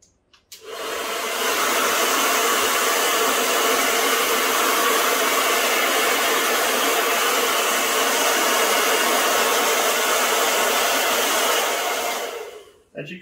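A heat gun blows continuously at close range while warming a vinyl sticker wrap on an e-scooter, a steady loud whoosh that starts and cuts off cleanly with no talk.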